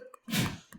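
A single sharp human sneeze bursts out during a math lecture, a brief loud explosive snort with faint breathy sounds just before and after.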